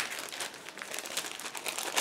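A plastic bag holding the gray plastic parts of a Brengun 1/72 Yak-1 1941 model kit is opened and handled, giving close, continuous crinkling and rustling with small crackling bursts and no talk.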